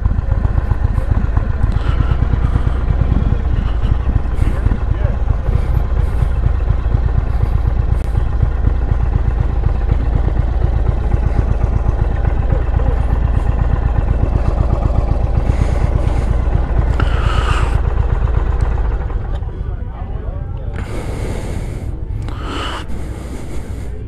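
An Indian Chief Bobber motorcycle on a test ride at Americade 2021 gives a deep, steady engine rumble with rattly wind noise that drops off near the end, leaving softer scattered sounds.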